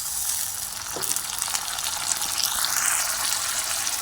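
Chicken frying with a ground spice paste gives a steady, loud, close sizzle in the pan, with a brief wet splash early on as the paste goes in.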